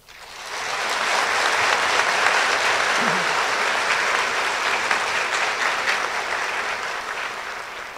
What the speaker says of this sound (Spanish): quisiera pedir un aplauso especial para él